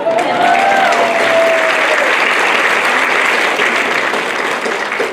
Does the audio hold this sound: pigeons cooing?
no